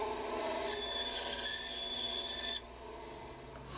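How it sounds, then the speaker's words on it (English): A hand file worked over the rough bandsawn edges of a wooden hand plane wedge, a faint continuous scraping rasp that drops quieter partway through, close by with no talk. "And I took a file, got all the rough edges off from the bandsaw"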